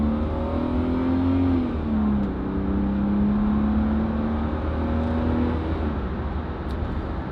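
The engine of a Jaguar XJ40 pulls steadily under acceleration, heard as a continuous droning hum whose pitch rises slightly, dips, then holds. It is loud and close, with no talking.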